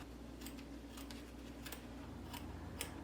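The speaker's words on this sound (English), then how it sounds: "let's go and use these scissors and go ahead and cut that excess off." Quiet snips of scissors trimming excess fabric from an appliqué embroidery for a varsity jacket, a handful of soft crisp clicks spaced apart over a low steady background hum.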